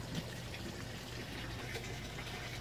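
Water sprayed over hydrangea cuttings set out for propagation, a steady close hiss of fine mist lasting the whole stretch with a low background hum and no talking.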